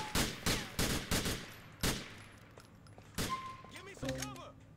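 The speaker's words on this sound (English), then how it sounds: "Oh, the cop shot you." A police officer fires at a suspect in GTA 4, a run of sharp, close gunshots in quick bursts, about eight cracks over a few seconds, fading into quieter game noise and clatter at the end.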